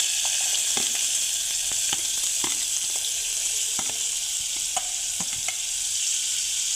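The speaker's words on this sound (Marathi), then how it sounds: "आता आपण कांदा घालून घेऊया तेलात" Onions frying in hot oil for prawn biryani, a dense continuous sizzle close up with scattered light stirring taps.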